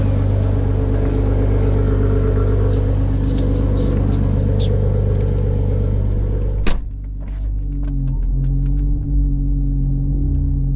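A BMW B58 inline-six in a 2020 Toyota Supra idles and revs with a loud, steady low rumble close by, then drops sharply with a thump near the seven-second mark and settles to a quieter hum.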